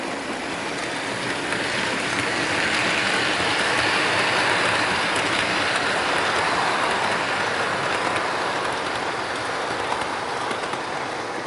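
A toy Christmas train set rumbles past steadily with a dense rushing, clattering noise that holds level throughout, close by and loud, with no voices.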